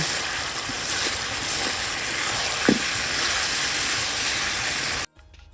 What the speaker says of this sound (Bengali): তো এই দেখো মাংসটা কষানো হচ্ছে